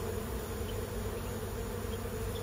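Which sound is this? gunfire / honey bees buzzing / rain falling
honey bees buzzing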